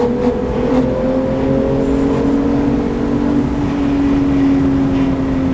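A Porsche 911 GT3 engine drones steadily from inside the moving car, a loud sustained tone that shifts slowly in pitch over road and wind noise, with no talk.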